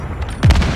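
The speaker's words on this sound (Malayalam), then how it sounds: "ആരോ വെടി വെക്കുന്നു" Gunfire in the Call of Duty Mobile video game comes as a brief, loud burst of close shots. A deep thud is followed by a few quick cracks over the steady game noise.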